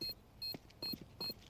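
A planted bomb in the Counter-Strike video game on the Inferno map beeps four times in a steady rhythm. Each short beep is clear and evenly spaced, heard alone over faint game ambience.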